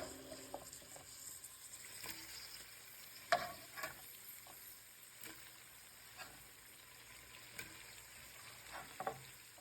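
Potato pieces go into a pot of sausage soup: quiet, sparse clunks and splashes with a few sharper knocks scattered over a low simmering background, and no talking.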